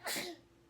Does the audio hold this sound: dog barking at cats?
no